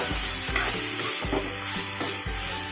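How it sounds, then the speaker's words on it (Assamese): Spices and paneer fry and sizzle in a pan over a high flame, with a steady sizzle broken by about five rhythmic stirring scrapes; loud and close, with no talking. "এতিয়া মই এইখিনি অলপ ভাজি ল'ম হাই ফ্লেমত।"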